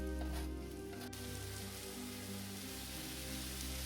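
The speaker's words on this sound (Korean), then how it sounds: "팬이 달구어지면 김치를 넣고 잘 볶으세요" Kimchi stir-frying in a hot pan: a steady, close sizzle like light rain, constant throughout without speech.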